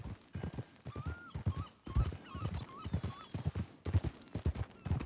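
Horse hooves clip-clop steadily on the ground in Red Dead Redemption 2, a close, regular walking rhythm with occasional faint whinnies and soft ambient sounds, no talk over it.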